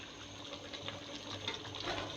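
Water poured from a mug into a cooking pot while preparing shahi korma, a close, steady splashing trickle for a couple of seconds with no talking.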